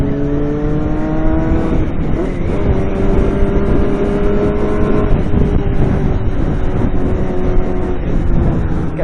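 A car engine revs and drones steadily, its rising and falling harmonic tones sustained loud and close throughout, with no talking.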